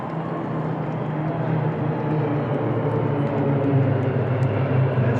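A formation of CASA military transport aircraft passes overhead at a presidential inauguration air display in South Africa, a steady, loud droning roar of propeller engines holding constant throughout, with no voices.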